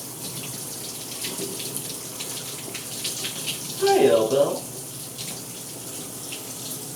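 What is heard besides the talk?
running water in a bathroom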